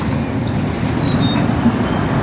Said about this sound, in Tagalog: Ang daming sasakyan na dumadaan